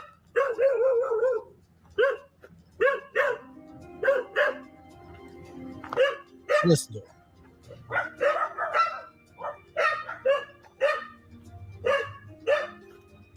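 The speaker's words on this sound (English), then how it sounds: "The dogs are barking." Dogs bark repeatedly in short, sharp bursts at close range, with some yips mixed in, as a car drives up to a house; a voice speaks briefly between the barks.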